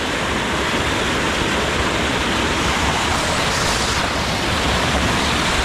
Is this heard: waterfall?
yes